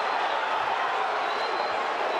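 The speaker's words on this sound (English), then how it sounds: "The crowd rises to their feet." A large boxing arena crowd, at a Deontay Wilder vs. Luis Ortiz heavyweight fight, roars and cheers as it rises to its feet. The dense, steady wash of noise holds without pause for the whole moment.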